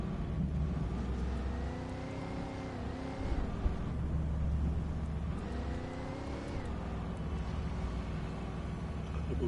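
A beat-up truck driven in the video game Alan Wake, its engine droning steadily and rising in pitch as it accelerates and shifts, heard close without talk.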